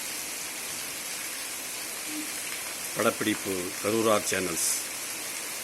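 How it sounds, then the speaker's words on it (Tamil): Heavy rain falling in Poyyathanallur village in August, a steady broadband hiss throughout, with someone speaking briefly partway through over the downpour. "பொய்யாதநல்லூரில் கடுமையான மழை பெய்து கொண்டிருக்கிறது"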